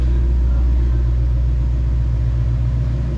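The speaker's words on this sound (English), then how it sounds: "The audience is about to cringe on that cold start instead of revving it up" Ford Mustang S197 with a Coyote V8 engine (Gen 2 bottom end, Gen 1 heads) idling on a cold start, a loud, steady low rumble held close throughout.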